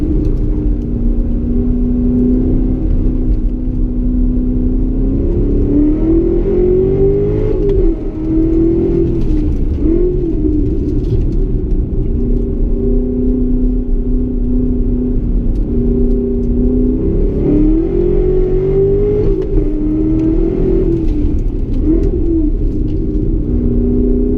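A 627-hp Callaway Corvette accelerates around a figure-eight track. The engine is loud and close from start to finish, rising in pitch, then briefly dropping at each gear shift near 8 and 18 seconds before climbing again, with no talk.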